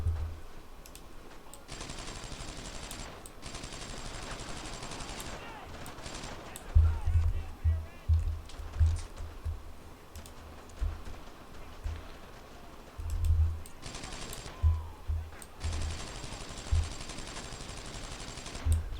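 Bursts of gunfire from the video game Brothers In Arms crackle in repeated volleys, with loud low thumps of nearby shots and explosions layered under spoken voices.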